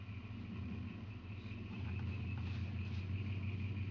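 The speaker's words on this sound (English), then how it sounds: "sounds like my neighbor's got his truck running out there" A truck engine idles outside, a steady low rumble that holds through the whole stretch and grows slightly stronger partway in, distant but constant.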